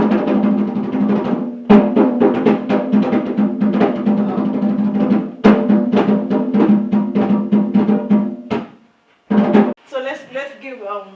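Live drum beats ring out in a room at a creative session in Swansea, a steady run of loud, rhythmic hits with short pauses, ending as a voice comes in.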